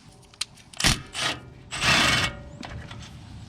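A 13mm socket working on a Ford F150 brake caliper bolt, giving a few short metallic scrapes and rubbing bursts at close range, with quiet gaps between them.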